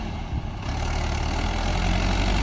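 A Mahindra 585 XP Plus tractor engine runs under load during a pulling test, a loud, steady low rumble close by that holds constant throughout, with no talk.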